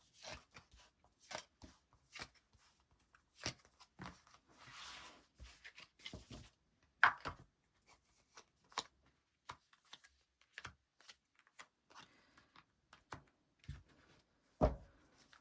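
Tarot cards being drawn and shuffled on a table during a reading, heard as close, dry slaps and flicks in uneven bursts, with soft riffling in between.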